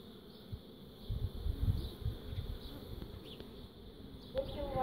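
Honey bees swarm and hum inside an opened hive full of young, freshly emerged bees, a dense continuous buzz with a few louder passes close by.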